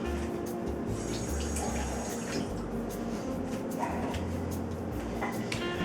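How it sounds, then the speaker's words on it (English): Hands being rinsed under a running kitchen tap while making garlic mashed potatoes, with a steady stream of water splashing continuously and close. "Let me rinse my hands."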